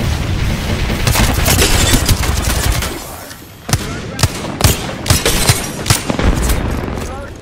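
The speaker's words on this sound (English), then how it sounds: "Thermite grenade." A thermite grenade goes off in the video game Apex Legends. A dense burning roar fills the first few seconds, then a string of sharp gunshot-like cracks and booms follows.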